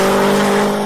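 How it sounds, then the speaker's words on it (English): A rally car's engine roars loud and sustained as it echoes through a valley, a single continuous drone that fades slightly at the end. "Oh, the sound of that engine echoing through the valley."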